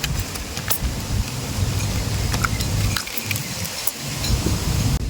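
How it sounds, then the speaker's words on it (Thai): Steady monsoon rain falls on an earthen fishing pond at a resort, a loud, continuous hiss with scattered sharper drops and taps, and no voices. "ฝนมันตกนะครับมรสุมมันเข้านะครับ"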